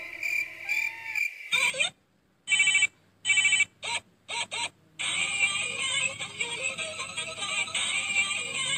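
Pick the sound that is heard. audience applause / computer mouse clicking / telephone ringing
telephone ringing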